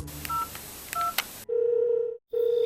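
A few short dial-pad beeps followed by two steady ringback tones separated by a brief gap, clear and close.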